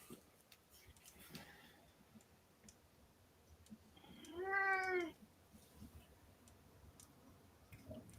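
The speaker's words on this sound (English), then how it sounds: "Cat meowed through the whole thing." A cat lets out a single clear meow in a quiet room, moderately close, with faint clicking and small background noises around it.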